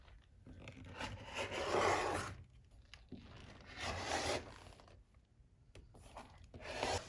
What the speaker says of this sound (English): so I'm just going to use my rotary cutter